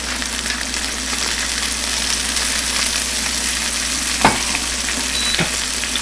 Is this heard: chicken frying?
yes